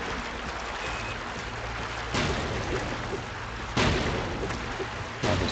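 Gunfire and blasts in the blocky shooter Ace of Spades during a zombies match, a few sharp broadband bursts spaced a second or two apart over a steady background rumble.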